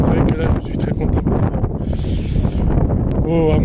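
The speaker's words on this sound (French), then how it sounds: "Il y a du vent, hein, vraiment, il y a du vent." Strong outdoor wind at the Château de Bon Repos in Isère buffets the microphone in loud, gusty rumbles, with someone speaking over it throughout.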